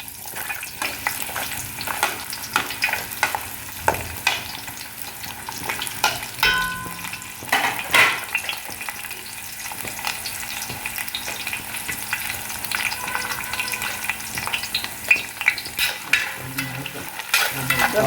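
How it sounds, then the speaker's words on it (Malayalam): Coconut pieces dropped into hot oil and frying in a pan for beef fry, a continuous close sizzle with repeated stirring scrapes and clatters throughout, no voices. "എണ്ണ ചൂടായിക്കൊണ്ടിരിക്കുക അപ്പോൾ നമ്മൾ തേങ്ങാക്കൊത്ത് അതിലേക്ക് ഇടുകയാണ്"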